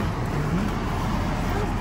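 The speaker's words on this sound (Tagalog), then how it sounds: "Tapainit po si Marvin sa sasakyan." Car engine idling while warming up in extreme cold of about minus 30, a steady low rumbling hum with a faint tonal whine, close and continuous for a brief moment.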